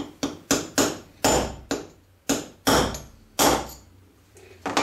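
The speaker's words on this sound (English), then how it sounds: "And then with a punch, the hammer." Hammer striking a punch to drive a pin out of a cheap clamp knurler resting on a bearing ring, nine or so sharp metallic blows at an uneven pace, each ringing briefly before fading, close and with no talking.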